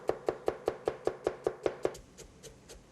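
A knife finely chopping onion on a cutting board, about ten quick, evenly spaced crisp strikes up close, then several softer, lighter taps as the rhythm trails off.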